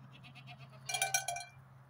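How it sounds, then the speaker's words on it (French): A small herd of goats on a Landes cheese farm waiting for milking, with a few bleats rising near the middle over a steady low hum, fairly faint and without talk. "Le petit troupeau de chèvres qui attend pour la traite"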